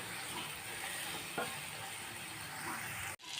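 Onions and green chillies for a prawn biryani sautéing in a pot: an even, soft hiss of frying runs throughout, with a brief knock partway through and a sudden cut near the end.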